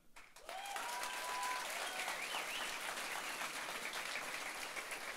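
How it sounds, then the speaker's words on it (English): A crowd at a lineman class graduation and rodeo gives a round of applause that starts abruptly and continues as steady, fairly distant clapping to the end. "round of applause for the guy who won the arm pull, Mr. Christopher Benton"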